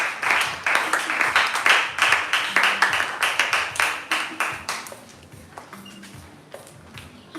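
A church congregation claps in acclamation during worship, a steady rhythmic beat of many hands, loud and fairly close, that gradually thins and softens toward the end.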